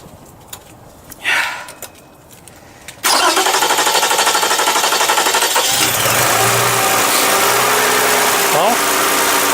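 A car engine starts up and runs at a loud, steady idle after throttle plate cleaner and fuel injector cleaner are applied, following a few seconds of quieter handling noise.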